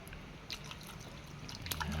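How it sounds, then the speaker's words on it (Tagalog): Broth poured into a simmering pot of Filipino home cooking, a soft steady trickle with faint drips and bubbling, quiet and continuous with no voices. "sabawan natin ang kaunti guys sabawan natin para may higupin"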